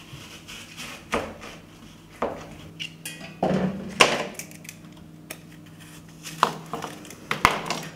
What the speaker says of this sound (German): entkernen und schälen wir unseren Apfel.